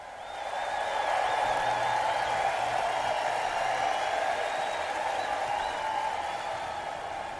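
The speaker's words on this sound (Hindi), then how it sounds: "सबसे पहले आपके लिए ये शानदार तालियों की गड़गड़ाहट" A sound-effect burst of applause, a dense steady clatter of many hands clapping at even loudness throughout, with a faint tonal hum in the background and no voices.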